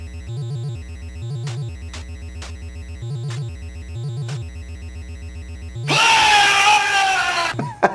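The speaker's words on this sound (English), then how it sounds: "So when you die in this game, the entire stage takes a brief break to let you scream." In a retro video game, a looping chiptune melody plays for several seconds. It cuts off suddenly and the player character's harsh, loud, distorted death scream follows for about two seconds.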